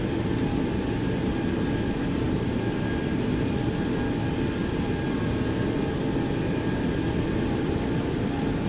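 A Boeing 727-200 taxiing in the X-Plane 11 flight simulator, its engines giving a steady, continuous broadband roar and hum that holds level from start to finish, with no talk.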